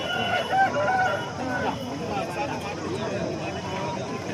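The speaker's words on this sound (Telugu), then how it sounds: "మంచి సైజు పుంజు, బ్రీడింగ్ బాగా చేస్తుందా?" A rooster crows near the start at a busy Saturday hen market in Mydukur. Its drawn-out call rises over a steady hubbub of crowd chatter and people talking close by.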